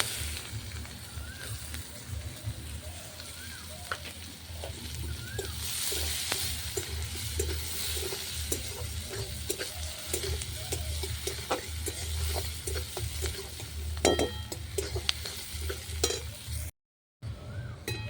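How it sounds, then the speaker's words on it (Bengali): Chopped onion frying in the leftover oil from frying fish, with black cumin seed and dried red chilli, in a home kitchen: a steady close sizzle with spatula stirring and clatter throughout and faint talk in the background. "পেঁয়াজটা ভাজা ভাজা হয়ে গেছে এবার দেবো"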